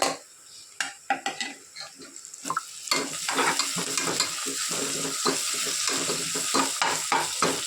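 Onions frying with ginger garlic paste in a pan for vegetable biryani, a steady close sizzle under repeated scraping and stirring clatters of a spoon against the pan, with no talk.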